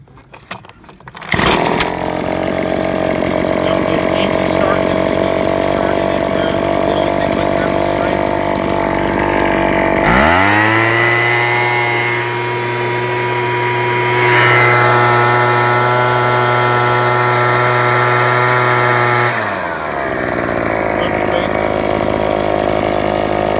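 Small two-stroke engine of a Troy-Bilt TB25BP string trimmer, recently cleaned of varnished fuel, starting with a pull and running loudly, idling then revving up and holding high speed before dropping back to idle.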